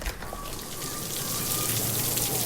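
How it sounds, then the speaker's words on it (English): Steady rain patters down outdoors in a Louisiana bayou, with dense raindrops landing on surfaces in an unbroken, even wash of sound and no voices. "It's raining."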